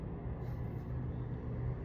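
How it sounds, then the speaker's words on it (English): Car engine rumbles steadily in the distance, a low continuous drone with no voices over it. "I don't understand cars that be that loud"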